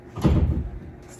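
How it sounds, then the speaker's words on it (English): A door slams shut indoors with a single loud, close thud that fades quickly. "Stop slamming freaking doors."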